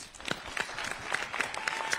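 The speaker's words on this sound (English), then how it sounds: "I'd like to take this time to give all our phenomenal speakers a round of applause." Audience applause for speakers at a Black Women's Leadership public policy forum, a steady scattered patter of clapping hands with a few sharper claps standing out, moderately loud and continuous for two seconds.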